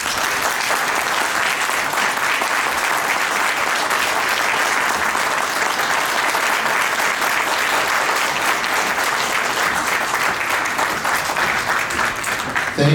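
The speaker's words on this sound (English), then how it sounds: "One more round of applause." Sustained, dense applause from a large indoor audience at a Nikola Tesla anniversary celebration in Ottawa, steady and close with no break.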